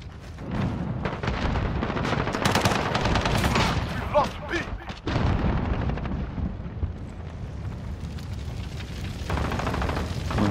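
Dense, continuous gunfire rattles through a shooter video game battle, with rapid overlapping shots and bursts filling the whole stretch at high volume and brief game voice lines mixed in.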